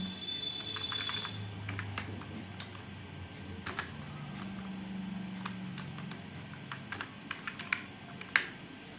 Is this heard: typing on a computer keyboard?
yes